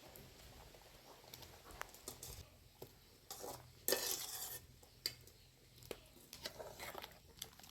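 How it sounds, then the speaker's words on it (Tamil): Sautéed white pumpkin goes into a pan of village-style Chettinad sambar with onions and is stirred, giving faint scattered clinks and scrapes of a utensil on the pan, with one brief louder rustle. "இப்போ நம்ம வதக்கி எடுத்து வச்சுருக்க பூசணிக்காயும் சேர்த்துக்கலாம்."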